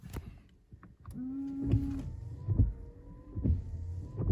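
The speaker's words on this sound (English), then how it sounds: "give a quick pull on the wiper stalk" On an Alfa Romeo Giulietta, the windscreen wipers and washer run with a whirring electric motor hum, a short pump whine, and soft repeated thumps as the blades sweep back and forth about once a second, heard close inside the car.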